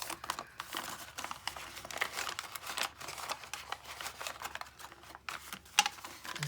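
Paper envelopes are handled while a stacked envelope journal is assembled, making a continuous close crinkling and rustling with papery scrapes and small taps, fairly quiet, with no voices.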